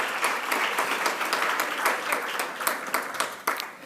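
Applause for a professor at a social development partnership summit, a brisk, fairly full burst of many hands clapping in a hall, steady and then loosening toward the end.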